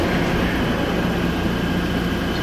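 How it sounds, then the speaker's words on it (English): The Denver airport train runs in a steady, loud, continuous rumble with broadband rolling noise and a constant hum from inside the car, no voices. "Arrived here bright and early just to ride this train back and forth."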